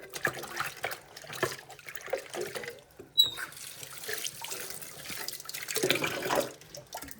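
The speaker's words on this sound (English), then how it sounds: "I think I need to wash the lid off the butter dish." Tap water runs into a sink while a stainless steel butter dish lid is washed, with a continuous splashing flow, faint clinks and shifting spatter at moderate distance.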